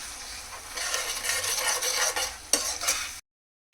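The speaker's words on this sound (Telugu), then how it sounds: "ఇప్పుడైతే మసాలా చక్కగా ఫ్రై అయిపోయింది" Masala frying in a pan with steady sizzling and repeated scraping stirs, close and fairly loud for about three seconds before cutting to silence.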